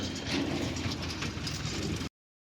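A tractor engine idles on a farm where a pit is being filled in, giving a steady, fairly close low rumble that runs unbroken for about two seconds and then cuts off.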